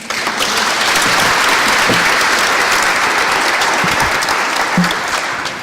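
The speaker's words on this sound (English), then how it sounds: "Another round of applause." Sustained applause from a seated forum audience at an environmental emergencies opening ceremony, a dense, steady wash of many hands clapping for several seconds, loud and close, fading slightly at the end.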